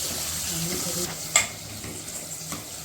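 Mutton liver fry sizzling steadily in plenty of oil while being stirred, with a soft hiss throughout and a brief sharper scrape of the spoon near the middle. Quiet and close, with no talking.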